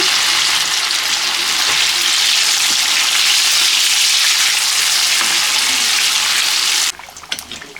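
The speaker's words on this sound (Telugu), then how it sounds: "మీడియం ఫ్లేమ్లో చేప ముక్కలు ఫ్రై చేసుకోవాలి." Pieces of gandi fish fry in hot oil over a medium flame, a loud, dense, continuous sizzle close by that cuts off sharply near the end, with no talking.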